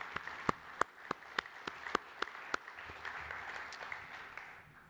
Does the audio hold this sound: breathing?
no